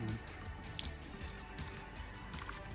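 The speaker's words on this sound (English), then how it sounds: "Give it a rinse out. Some cold water out." Cold water runs and splashes while rinsing out a wine-making vessel before a Pinot Noir cold press, a steady close trickle with dripping and no talk.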